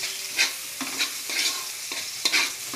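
Ginger fries in hot oil with a bright, continuous sizzle, punctuated by regular scraping strokes of a spatula stirring it roughly every half second, close and clear.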